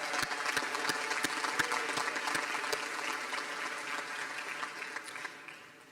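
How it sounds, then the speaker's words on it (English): A large audience at a UCLA School of Nursing commencement ceremony claps in sustained applause, dense and steady before slowly fading out. "So let's give them a round of applause."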